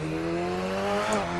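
Radical SR3 XXR race car engine in Assetto Corsa, holding a steady high-revving tone with strong harmonic whine, continuous and close for a moment, no talk.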